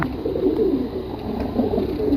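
Soft, repeated low cooing of a young male pigeon close by in a pigeon loft, a continuous throaty murmur with no talking.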